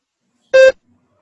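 A single short electronic beep marks the start of a spoken response in a mock exam, loud and clean, lasting about a fifth of a second between stretches of silence.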